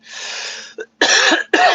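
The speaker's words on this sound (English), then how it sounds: "But I'm coughing, too." Three harsh coughs in a row, the first drawn out, the next two short and close, with a brief pause between them.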